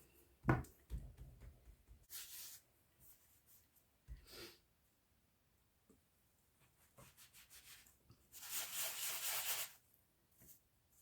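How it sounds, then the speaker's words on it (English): Scone dough is re-rolled and cut on a work surface: soft scattered thuds and rubbing noises, with a longer scraping burst near the end, all quiet and close with pauses between. "re-roll it and cut out some more"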